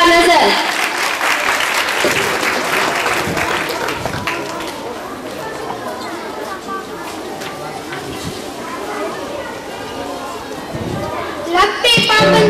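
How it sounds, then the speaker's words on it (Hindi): A school event crowd claps steadily and densely for several seconds, the applause gradually thinning, with a brief louder burst near the end. "आपकी भरपूर तालियों में क्लास 10 से सिदरा नजर।"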